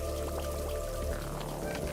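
Water pouring and splashing through a dishwasher in the video game Wanderstop, a steady faint trickling flow under soft tonal background music.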